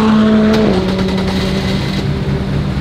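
BAC Mono race-style car engine starting up, with a sharp catch and then a loud, steady idle drone that carries on without any talk.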